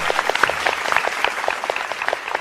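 Audience members at a Thai competition show clap for a contestant, close, distinct handclaps in an uneven flurry from a modest group, steady for the whole stretch.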